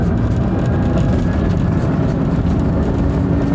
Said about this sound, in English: we are accelerating uphill